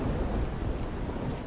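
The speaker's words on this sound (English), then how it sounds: "Wow, it's really raining today" Heavy rain pours down with a deep rumble of thunder in The Elder Scrolls IV: Oblivion, a dense, continuous wash of loud storm noise with no voices.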